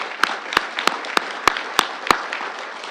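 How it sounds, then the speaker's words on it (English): Sparse, evenly spaced handclaps ring out over a steady room hiss at a city council meeting, seven sharp claps in a slow regular rhythm rather than a full ovation. "a round of applause for everyone involved in that exercise"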